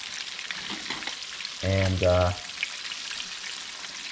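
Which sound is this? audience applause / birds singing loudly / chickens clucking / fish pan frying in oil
fish pan frying in oil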